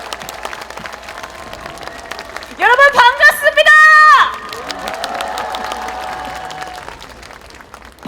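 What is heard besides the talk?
rally crowd applause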